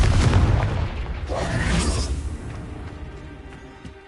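Confringo blasting spell going off in the video game Hogwarts Legacy: a deep, rumbling boom that fades over a few seconds, with a brighter crackling burst midway through.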